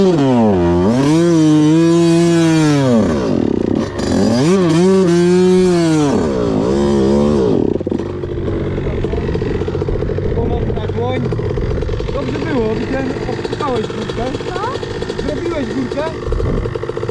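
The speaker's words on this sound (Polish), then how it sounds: "Tylko cały czas gaz trzeba trzymać" Kayo 250 T4 dirt bike on a gravel pit, engine held wide open in rising and falling high-revving surges, loud and close, later settling to a rougher steady drone with people talking nearby.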